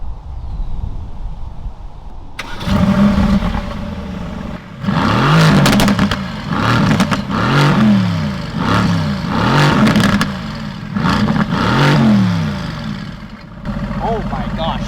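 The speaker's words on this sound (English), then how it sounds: "We're gonna be testing out the 0 to 60 of the AMG GTS right over here, right now." Mercedes-AMG GTS, its engine revving hard in a series of loud, rising surges with brief drops between them, up close and dominating, a short quiet pause before and talk afterward.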